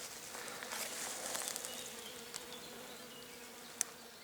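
A dense, steady hum of bees buzzing outdoors around a flowering quince tree at a forest apiary, with a brief sharp click near the end.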